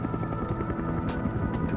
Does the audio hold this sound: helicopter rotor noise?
yes